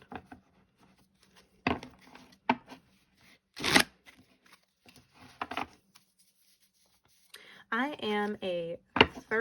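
Tarot cards are shuffled by hand in a series of short, soft riffling bursts at close range with quiet pauses between them, and a person speaks briefly near the end.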